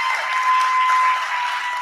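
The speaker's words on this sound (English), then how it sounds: "Can we give him a round of applause?" A brief burst of steady audience applause for the emcee at a poetry event, dense clapping close and even throughout, with a faint tone running underneath.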